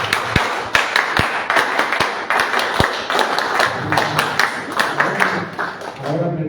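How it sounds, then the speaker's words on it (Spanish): Audience at a book launch in Peru claps loudly, with sharp individual claps standing out over a dense wash of applause and chatter throughout, close and steady. "pido fuertes aplausos"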